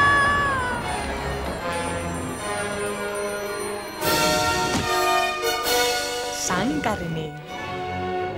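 Cat meowing amid a busy game scene, with mewing cries and bell-like tones mixed under music and talking voices, loud and close.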